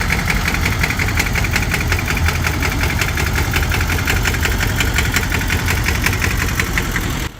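A trike powered by a Volkswagen Beetle 1.6 engine runs close and loud at a steady idle, its rough, knocking air-cooled chug holding constant throughout with no voices.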